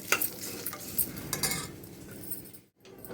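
Grated coconut being fried in a pan for coconut chutney, with steady stirring scrapes and light clinks of a spoon against the pan, ending in a brief silence.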